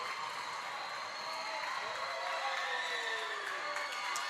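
A loud, raucous crowd fills a high school gym at a volleyball match, a steady roar of cheering and shouting with a commentator talking over it.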